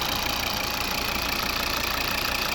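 A 2011 Volvo V60 2.0 D4 five-cylinder diesel engine idling up close, a steady low rhythmic thrum with an even pulsing beat.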